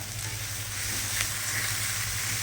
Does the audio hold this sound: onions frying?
yes